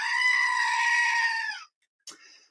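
A screaming goat sound blares as one long, loud, nasal bleat with a wavering pitch, cuts off sharply, then a brief click and faint tail follow.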